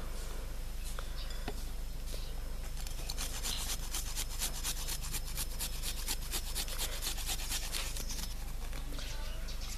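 Garlic is rubbed against a kitchen grater in a series of quick, rasping scrapes that keep up a fairly steady rhythm, close and moderately quiet, with no speech over it.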